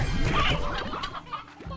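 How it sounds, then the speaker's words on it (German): Chickens in the Slime Rancher video game cluck in a busy overlapping cluster, close and fairly loud, with a few clunking knocks mixed in and the clucking thinning out toward the end. "also Hühner gibt es hier genug."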